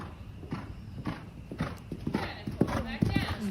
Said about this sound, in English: This is my first time ever cantering in an English saddle.